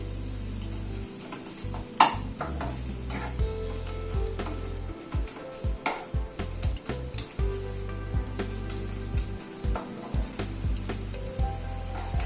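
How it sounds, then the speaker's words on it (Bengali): Garlic, green chillies and ginger paste being stir-fried in a pan for a rohu fish dish; a soft steady sizzle under repeated rhythmic scraping strokes of a spatula, close by, with no voices. "রসুন আর কাঁচা লঙ্কাটা এই মিনিট খানেক একটু নাড়াচাড়া করে নিলাম"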